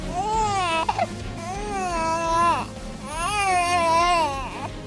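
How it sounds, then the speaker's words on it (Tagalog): An infant cries loudly and continuously in a horror film, with long wailing sobs repeated in three drawn-out bursts, broken by short gasping breaths between them. "Sinundan nila ang tunog ng pag-iyak."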